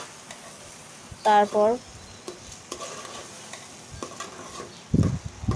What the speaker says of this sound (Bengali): চালটা ভালোভাবে বাছতে হবে তেলের সাথে